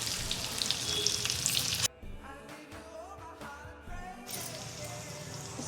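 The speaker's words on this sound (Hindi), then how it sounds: "और इस ऑयल में सबसे पहले मैं डालूँगी ज़ीरा और ये ग्रीन चिलीज जो मैंने कट किया था" Cumin seeds and chopped green chilies sizzling in hot oil for a home dinner, a bright hissing crackle that cuts out abruptly, leaving quieter low clatter, then the sizzle returns near the end.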